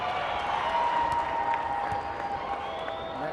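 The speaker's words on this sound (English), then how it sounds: "that draws applause from the fans in the crowd" Fans in the crowd at a basketball game between Western Cape Mountaineers and Tshwane Suns applaud steadily after an unsportsmanlike foul, a broad, even wash of clapping and crowd noise holding at moderate level throughout with no talk.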